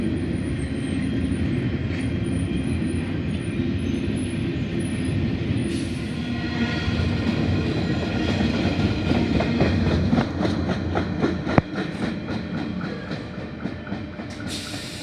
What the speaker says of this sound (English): Here we have T47 arriving at platform number 3.